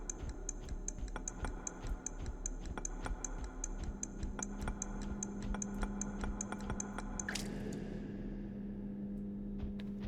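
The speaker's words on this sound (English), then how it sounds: "Oh, I can hear a ticking sound like a clock." A clock ticks steadily and rapidly inside the horror video game The Unknown, a quiet, even rhythm of sharp clicks running throughout, joined by a low steady hum in the second half.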